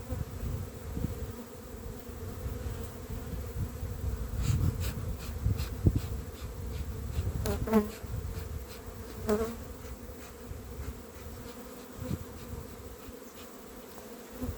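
Honey bees buzz inside a nuc hive, a dense close drone that swells and fades, with scattered brief tones and bumps from handling the box.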